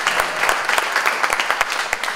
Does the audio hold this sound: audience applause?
yes